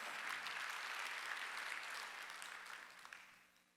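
A church congregation applauds during a Korean Sunday worship service, a soft, broad patter of many hands that holds steady and then fades out, with no talking over it.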